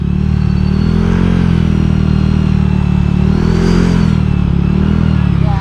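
The engine of an old Honda Vario 125 scooter drones loud and close during a test ride, a steady low rumble that rises and falls slightly in pitch as the throttle shifts, with wind noise and no talking.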